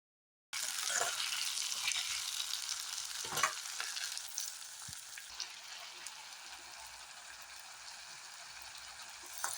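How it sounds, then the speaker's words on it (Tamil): Tomatoes and onions sauté in a frying pan for a yam curry, a dense, steady sizzle that starts abruptly and continues close up, with occasional scraping stirs. "தக்காளியை போட்டு நல்லா வதங்கணும்."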